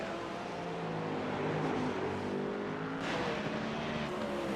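GTP and LMP2 prototype race cars pass at Long Beach, their engines rising and falling in pitch as they go by at moderate distance, with a sharp shift in the roar partway through.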